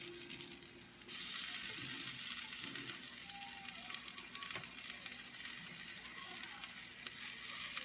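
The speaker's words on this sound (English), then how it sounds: "I'm going to flip them over so that the buttered part is down." Buttered grilled cheese sandwiches sizzle steadily in a hot pan after being flipped butter-side down, a dense continuous frying hiss with a few soft scrapes and bumps as they are moved around.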